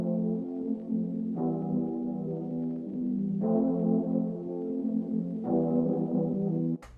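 A sustained vocal pitched with a formant-shift plugin for added bite plays as long droning, buzzy tones that change at regular intervals, loud and alone, ending abruptly.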